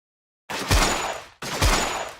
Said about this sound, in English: This is the other gun, which is which is an automatic rifle that is also burst fire.